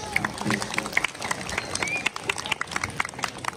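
Crowd applause at a village ceremony in Penglipuran, Bali, with broad clapping filling the clip alongside crowd noise and some voices mixed in.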